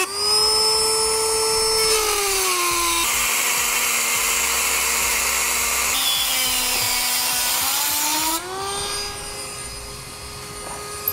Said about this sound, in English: So I'll use a rotary tool to do this.